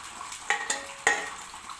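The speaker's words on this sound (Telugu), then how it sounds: "ఆయిల్లో వేసినప్పుడు చిటపట అని శబ్దం వస్తుంది." Ingredients for a small gooseberry chutney crackling in hot oil, a soft sizzle with two sharper pops or utensil clicks, brief and close.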